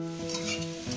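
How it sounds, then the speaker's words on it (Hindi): Cabbage sabji sizzling in a pan while being stirred, a continuous close frying hiss with soft scraping motion throughout. "ऐसे ही हम बिना ढक के 5 मिनट भी ऐसे ही चलाते रहेंगे।"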